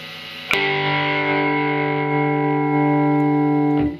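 A single distorted chord struck hard on a vintage-style Stratocaster with single-coil pickups, all three down on the power setting, left to ring out with a thick, sustained tone, then cut off near the end.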